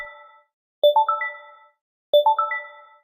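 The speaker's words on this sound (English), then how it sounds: "PAYS POS will receive a notification from DoorDash" A DoorDash order notification chime sounds on a PAYS POS point-of-sale system, playing a bright rising multi-tone ding twice with a short pause between, clean and close with no talk.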